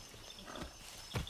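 Horse hooves clop softly in the Far Cry 6 video game, a few uneven steps heard faintly and alone.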